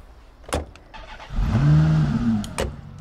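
A car engine cranks and catches in the zombie-survival game State of Decay 2, then settles into a rising, humming idle after a couple of sharp clicks, clear and close with no talk.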